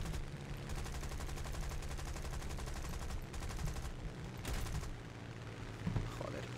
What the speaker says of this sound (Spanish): qué asco de ametralladoras